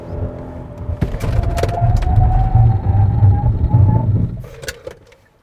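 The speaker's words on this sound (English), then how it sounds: "now let's also check out the braking performance then." 2023 Hyundai Palisade SUV on 245/50 R20 tires during a braking test, with a steady loud road and engine rumble building and a rising tone before the vehicle stops and it fades.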